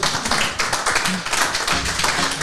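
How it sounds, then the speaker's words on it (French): Applause from a conference audience after a talk: dense, steady clapping from many hands fills the room continuously, fairly loud, with no voices over it. "Je pense que ça mérite des applaudissements."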